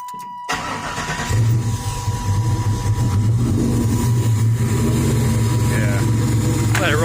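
A Chevy S10 with a 383 stroker V8 starts up and settles into a deep, loud, steady idle as it warms, the low rumble continuous and close, with someone briefly talking over it.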